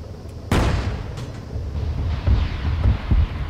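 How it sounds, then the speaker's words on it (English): Booming explosions and artillery fire in the Arma 3 World War II invasion of Poland village assault, a heavy blast at the start followed by rolling rumbles and several further thuds, loud and continuous with a windy roar beneath. "There's quite a few explosions."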